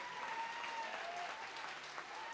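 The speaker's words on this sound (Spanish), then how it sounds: "un aplauso a nuestros profesores" An audience at a panel discussion event applauds, a dense, even patter of many hands clapping that holds steady for a couple of seconds.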